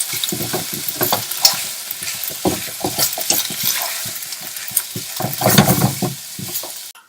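Diced onion and beef brown in a hot pan for stew, giving a continuous close sizzle broken by frequent scraping and stirring clatters.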